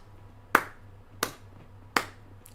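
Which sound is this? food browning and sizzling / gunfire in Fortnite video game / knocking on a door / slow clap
slow clap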